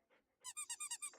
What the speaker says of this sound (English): Plays a squeaky toy.